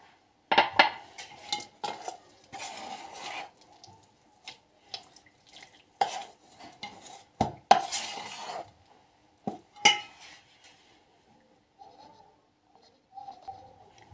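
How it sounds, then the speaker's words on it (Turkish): A spoon stirs a dough mixture with olive oil in a bowl for Turkish poppy seed buns, giving scattered scrapes, taps and wet clinks against the bowl, close and intermittent with quiet gaps between strokes. "Sürdürülebilir bir kıvama gelene kadar karıştıracağız"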